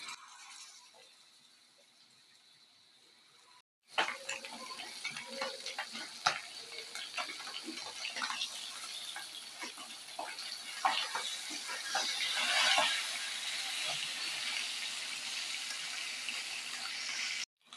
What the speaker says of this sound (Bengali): তেলটা গরম হয়ে আসলে এখন আমি